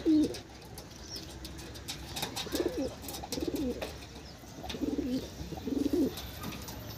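Andhra pigeons in a loft coo repeatedly in soft, low bursts at a steady pace, close by, with light background rustle.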